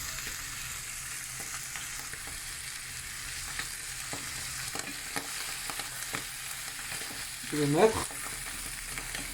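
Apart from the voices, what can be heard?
chopped carrot and mushrooms sautéing in a pan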